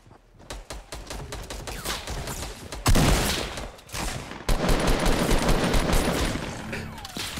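Gunfire in Fortnite Battle Royale during a chaotic fight inside a house: rapid bursts of automatic fire and sharp single shots, loud and close, with a few heavy blasts and brief pauses between volleys.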